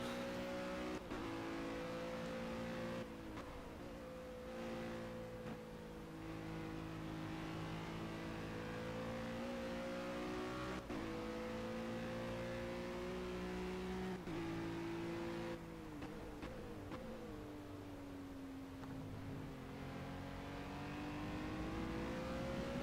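Ginetta GT4 race car engine in the Project Cars video game, a sustained near, buzzy drone that rises and falls in pitch through shifts and throttle changes over rumble strips, with no talking.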